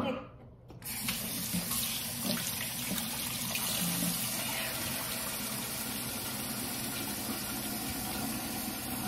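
Water runs steadily from a tap in a kitchen, splashing onto meatball meat as it is added, a continuous loud hiss with no pauses.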